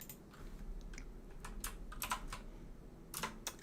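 Quick bursts of key clicks from a clicky mechanical computer keyboard, irregular taps and short runs of typing over a quiet room background, close and crisp with no talking.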